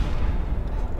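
Heavy weapon fire in an Evangelion video game, a loud continuous low booming rumble filling the whole moment without a break and with no talk over it.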